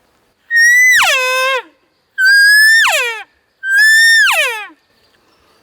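Three long, rising whistled bugles, each sliding high then dropping low, a person imitating a yearning elk call; loud and close with short pauses between.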